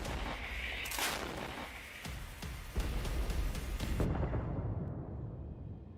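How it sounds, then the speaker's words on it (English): Ukrainian artillery firing an opening salvo at a Russian column: several booming reports in quick succession, the sharpest near the start and around the middle, with rumbling echo that tails off into quiet. "Ukrainian artillery fires the opening salvo."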